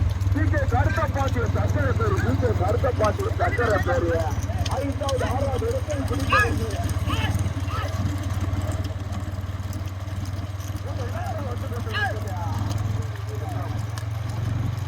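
Bulls galloping in a rural bullock-cart race in Ottapidaram, Thoothukudi, their hooves clip-clopping steadily beneath a constant low engine drone, with people talking and shouting throughout.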